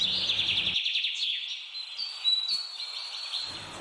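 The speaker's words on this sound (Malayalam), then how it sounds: "മംഗളവനം പക്ഷി സങ്കേതം കേരളത്തിലെ എറണാകുളം ജില്ലയിൽ സ്ഥിതി ചെയ്യുന്ന ഒരു പക്ഷി സങ്കേതമാണ്" Birds call in Mangalavanam bird sanctuary in Ernakulam, Kerala, with a dense high chirping chorus at first, then scattered thin calls over a quiet background, moderately loud and without talk.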